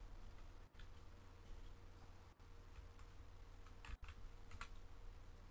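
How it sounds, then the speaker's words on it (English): A computer keyboard used to play Farming Simulator 17, with soft close key clicks scattered through a quiet room and no talking. "Just going to use my keyboard."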